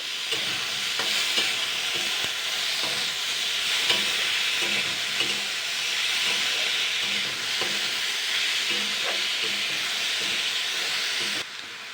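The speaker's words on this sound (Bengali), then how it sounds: "এটাকে আমি আবারও 2 মিনিট মতো হালকা নাড়াচাড়া করে নেব" Onions fried in a pan while being stirred, a steady hissing sizzle with soft periodic scrapes of a utensil against the pan, close and unbroken, no one speaking.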